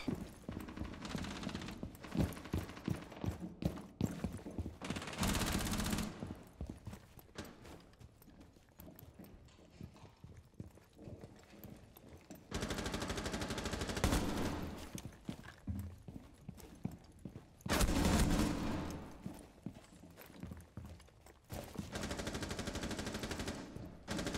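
Gunfire in the video game Rainbow Six Siege comes as rapid, rattling automatic bursts separated by quieter stretches of footsteps and scattered shots, with loud sustained volleys near the middle and the end.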